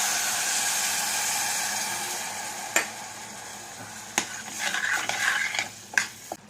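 Thin coconut milk poured into a bitter gourd curry and stirred in a pot, with a steady simmering hiss broken by a few sharp scrapes and clinks of a utensil against the pot toward the end.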